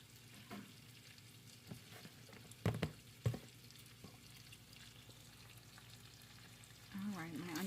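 Sausage sizzles softly while browning in a pan, a quiet continuous fry broken by a couple of sharp utensil clanks and a brief stirring scrape toward the end.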